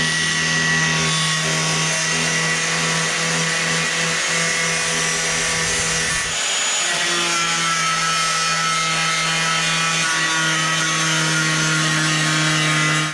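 A power tool grinds continuously through the sheet-metal hood of a Mk4 VW GTI, a loud whining buzz with a steady hum, briefly dipping midway before cutting on without pause.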